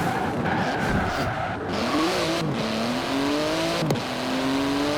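A twin-turbo 3.8-litre flat-six, 700 hp car in Forza Horizon 4, its engine note climbing and dropping through gear changes with tire squeal mixed in, loud and steady throughout; no talking.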